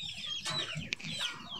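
Backyard breeding chickens cluck faintly with low, soft calls and a brief sharp squawk, heard at a distance with no talk.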